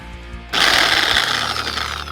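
A power tool starts abruptly and runs at a harsh, steady buzz as it cuts brackets off a 2003 truck radiator support, close and loud after a brief lower-pitched idle.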